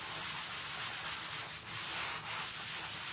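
Continuous rasping of a fine sanding block rubbed back and forth over a surface, close and steady with brief dips between strokes.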